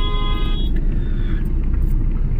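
Busy, jammed road traffic in Kolkata near Science City, a dense continuous rumble of vehicles with a brief high tonal whine or horn at the very start, no voices.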